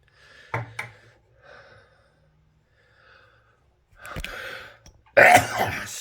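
Breathy gasps and catches build up in short bursts, then a loud, explosive sneeze bursts out at the end, close and alone.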